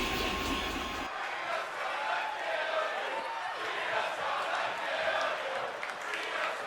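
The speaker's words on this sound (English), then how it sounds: "listen to this crowd" A big arena crowd in the WWE 2K25 wrestling game roars and cheers in a steady, dense wash of noise after a brief louder opening moment.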